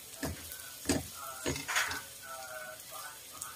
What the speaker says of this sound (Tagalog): Tapos, igisa niyo rin po.